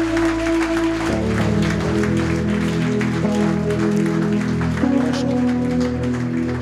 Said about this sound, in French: Acclamez le Seigneur bien-aimé.